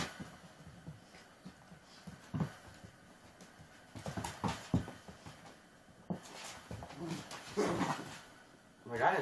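A dog barks and whimpers in uneven bursts, with panting in between and people talking nearby.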